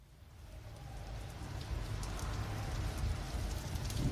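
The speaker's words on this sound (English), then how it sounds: "There's a bell and rain, just like it said in the poem." Steady rain opening a song, a dense hiss of falling water that builds gradually and stays alone without voices.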